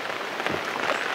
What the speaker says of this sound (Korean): 그렇게 한참 동안 비가 내리고